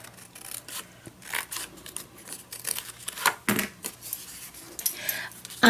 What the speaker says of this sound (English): I'm going to cut this little bit off.